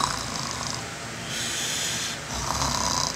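A sleeping dog snores in slow, steady cycles, each raspy breath close and fairly loud, with no talking during the snores.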